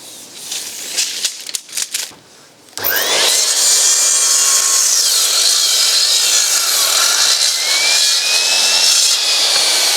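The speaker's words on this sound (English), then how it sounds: "So I'm going to cut this style on the door a bit longer than it was supposed to be" A power saw cuts through a wooden stile for a large barn door, a loud, sustained rasping whine that starts abruptly after a few seconds of quieter handling knocks and runs on steadily.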